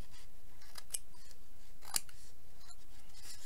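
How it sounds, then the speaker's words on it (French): Scissors snip a tiny piece while a Christmas table centrepiece is being made, two sharp, quick cuts about a second apart, close and clear against a quiet room. "S'il faut, vous reprenez un autre ciseau, un plus petit. Vous recoupez un tout petit bout."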